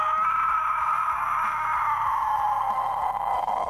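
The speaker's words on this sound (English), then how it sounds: "something screams above you" A monstrous creature's drawn-out, wailing scream, used as a fantasy sound effect for a Death Tyrant, sustains loud and continuous with a slowly falling pitch over a low, rhythmic musical backdrop.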